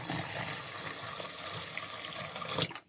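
Basmati rice being washed in water for Afghani pulao, a steady close splashing and swishing of water in a vessel that runs throughout, then stops abruptly near the end.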